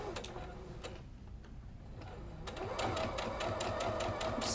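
A sewing machine chain-piecing a quarter-inch quilt seam, rapid ticking stitches that pause briefly and then pick up again, close and quiet.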